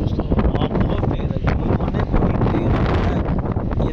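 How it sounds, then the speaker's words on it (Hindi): Strong outdoor wind roars steadily into the microphone, a loud continuous buffeting rush with gusty fluctuations, in blustery weather where pigeons have been let out of their loft. "बड़ी तेज़ हवा है"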